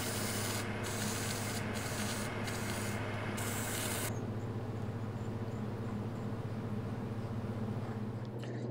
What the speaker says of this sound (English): I think if I deburr that, it should be pretty good.